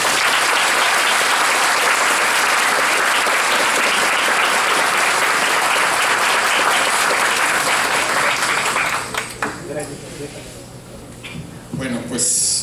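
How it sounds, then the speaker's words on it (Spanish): Sustained applause from a conference audience at a chemical engineering event in Mexico, a dense, loud wash of clapping that fills most of the stretch before thinning out into scattered claps near the end. "Un aplauso"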